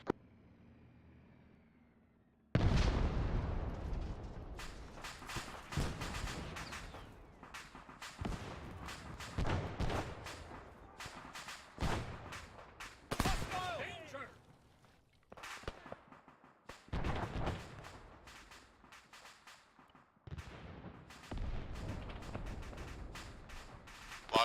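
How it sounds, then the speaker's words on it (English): IED blasts and combat gunfire in Arma 3 during an ambush on a US convoy: a loud sudden detonation followed by a long run of sharp cracks and booms in irregular clusters, some distant, with quieter gaps between. "but we've got two explosions."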